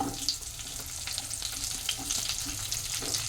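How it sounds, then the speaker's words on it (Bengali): Chopped garlic and onion frying in oil in a pan, a quiet steady sizzle with scattered crackles and light stirring scrapes, close and without talk. "এবার এই তেলের মধ্যে আমি দিয়ে দিচ্ছি রসুন কুচি এখন একে একে আমি সব এর মধ্যে দিয়ে দিচ্ছি প্রথমে দিয়ে দিচ্ছি পেঁয়াজ"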